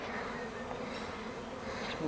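Honeybees buzz steadily around a hive, a close, continuous droning hum from many insects with no talking, faint but unbroken.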